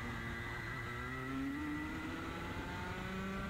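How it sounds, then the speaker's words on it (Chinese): A race car engine at Shanghai International Circuit holds a steady mid-pitched drone that climbs slowly in pitch, heard at a distance under a constant wash of background noise. "这个就是 Max 的引擎"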